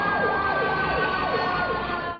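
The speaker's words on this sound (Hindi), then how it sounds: "रोजाना रोडों पर एम्बुलेंस सायरन बजाती हुई नजर आती हैं" An ambulance siren wails in a rapid rising-and-falling pattern, loud and continuous over rumbling traffic.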